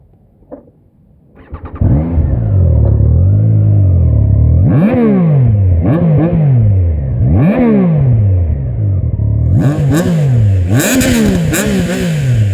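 A Triumph Trident three-cylinder motorcycle starts after a brief crank, then settles into a loud idle broken by several sharp throttle blips that rise and fall, the last bursts rougher and more aggressive.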